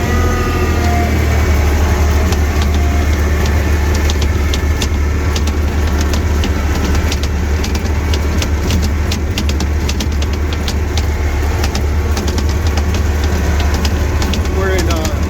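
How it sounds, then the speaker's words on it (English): A hydrostatic snowplow with tire chains climbs uphill in second gear and two-wheel drive under added throttle, its engine a loud, steady, close drone that holds level throughout. "I'm going to put a little throttle because we're going uphill."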